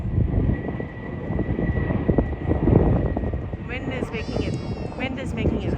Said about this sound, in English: Wind is making it harder, and plus the airplane noises.